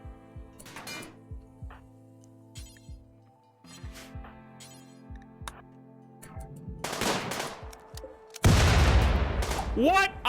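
Gunfire in the video game RimWorld, including a bolt-action rifle: scattered light shots and clinks over a low game background, building to a loud, dense burst of firing near the end.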